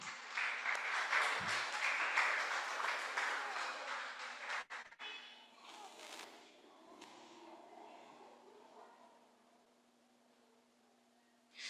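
Church congregation applauding together, a dense broad clatter of clapping that stays loud for about five seconds and then fades to a quiet murmur.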